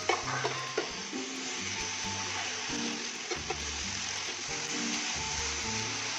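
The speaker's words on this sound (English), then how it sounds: "we are going to add our apples. We are going to stir this really well." Apples are stirred into melting caramelized sugar in a pan, making a soft, continuous sizzle with repeated scraping and clinks of a spoon, fairly quiet and with no voices.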